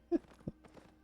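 Horse hooves clip-clop briefly in the online game Albion Online, a couple of close, distinct thuds over faint game ambience.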